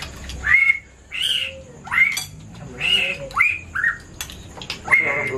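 Birds give repeated squawking calls, about seven short bursts in an uneven rhythm, fairly close and clear over quiet background noise.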